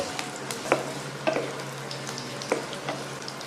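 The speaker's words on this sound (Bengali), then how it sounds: "এরপরে আমি দিয়ে দিচ্ছি কেটে রাখা আলুগুলো এবার আলুগুলো একটু নেড়ে চেড়ে নিচ্ছি" Cut potatoes fry in hot oil with a steady close sizzle while a utensil stirs them, producing a few distinct clinks and scrapes over a few seconds.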